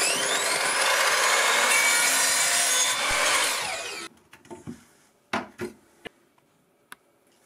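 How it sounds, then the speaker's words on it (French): Wood being cut to length with a hand saw, a loud, steady rasping of strokes for about four seconds that then stops, followed by a few scattered knocks and clicks of handling. "je vais couper le bois à 86 cm"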